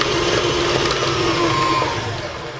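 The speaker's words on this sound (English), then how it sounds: "So we're gonna blend this." Blender whirring through a cheese ball mixture: a loud, steady motor drone held close for a couple of seconds, easing slightly at the end.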